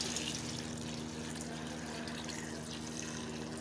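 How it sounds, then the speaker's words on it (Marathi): Water runs steadily into a cooker pot of chopped pav bhaji vegetables, a continuous close, moderately loud tap-like pouring with a faint low hum beneath, no voices. "आणि पाणी घालायचं, भाज्या बुडतील एवढं पाणी घालायचं"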